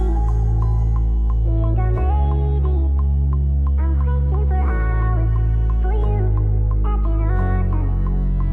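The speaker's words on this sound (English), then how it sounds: "I grabbed this cello and I kind of played a few different parts in" Bowed cello lines layered into a smooth R&B beat under a deep, heavy bass, with sustained and shifting notes over a steady groove and no voices.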